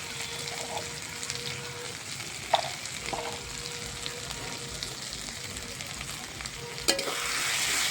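Turmeric and salt being stir-fried in a pan, a steady close sizzle with scraping stirs and a couple of sharp utensil knocks against the pan, no talk.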